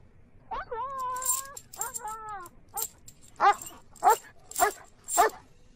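A dog whines and yelps at first, then barks sharply about four times in a steady rhythm, fairly close, with faint rattling underneath.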